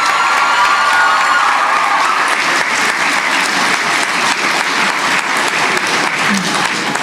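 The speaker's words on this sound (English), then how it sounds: "We can give the valedictorian another round of applause" A graduation audience at a community college ceremony breaks into sustained, dense applause for the valedictorian, loud and steady throughout with a few cheers mixed in.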